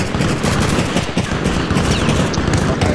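Artillery fire in Arma Reforger, set in a Vietnam jungle, heard as a loud dense clatter of overlapping shots and blasts continuing steadily throughout.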